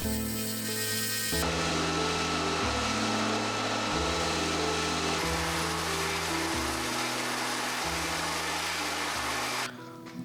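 A power tool machines a hand-forged axe head, a continuous loud whining grind that steps up and down in pitch, close and alone, then cuts off near the end.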